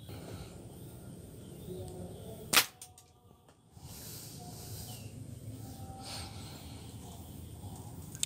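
A small homemade zinc wire slingshot fires once with a sharp, loud snap, followed by a brief hush before steady background noise returns.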